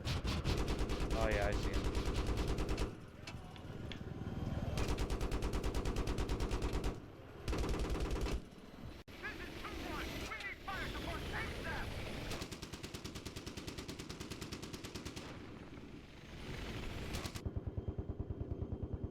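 Enemy gunfire in the Battlefield 3 video game, long sustained automatic bursts rattling loudly with short breaks, a player talking over the shooting.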